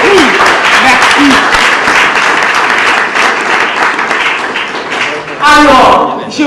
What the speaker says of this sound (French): mais maintenant, applaudissez pour l'auteur, quand même, après ce qu'il a écrit